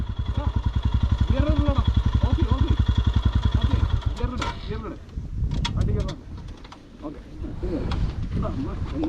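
Off-road motorcycle on a muddy monsoon trail near Vagamon, its engine chugging steadily and close for several seconds before wind buffeting and riders' voices take over.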